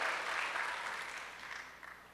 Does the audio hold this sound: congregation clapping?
yes